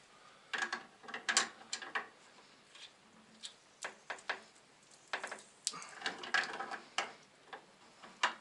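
A wrench tightening a fitting on a water pump pressure tank: quiet, irregular ratcheting clicks and metallic ticks in short bursts, close by, with no speech.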